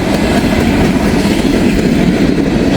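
Empty coal train cars, part of a consist about 2,700 feet long headed toward the Sharonville yard, roll past on the rails with a steady, loud rumble and rhythmic clickety-clack of wheels, continuous and close.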